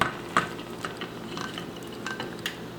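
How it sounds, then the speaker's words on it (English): Browned smoked turkey sausage tipped into a pot of green beans, a few light clinks and soft scraping knocks of utensil against cookware, fairly quiet and without talk. "We have our beautifully browned smoked turkey sausage. We're gonna add all of that in there."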